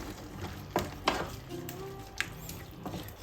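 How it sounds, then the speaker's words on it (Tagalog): Bitter gourd (ampalaya) guisado with a dash of fish sauce stirred in a pan, a few scraping knocks of the utensil over a faint sizzle, quiet and intermittent. "Haluin po natin mabuti."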